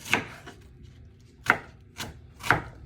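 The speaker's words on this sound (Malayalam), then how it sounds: "അത് നമ്മൾ ഇതുപോലെ ചെറുതായി അരിഞ്ഞ് വഴറ്റാൻ പരുവത്തിന് എടുക്കുക." A knife chops white onion finely on a board in four crisp, separate strikes, close and moderately loud over a quiet background, with no talking.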